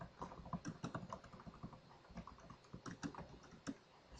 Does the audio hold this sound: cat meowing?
no